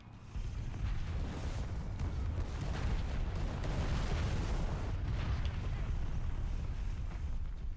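Dense, continuous artillery shelling in War Thunder's World War I tank battles: overlapping booms and rumbling blasts fill the whole stretch at steady loudness, with no clear gaps between impacts.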